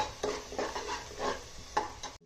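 Red chilli powder and turmeric fry in a pan, with soft sizzling and a few scraping stirs at a steady rhythm, quiet and close with no voices.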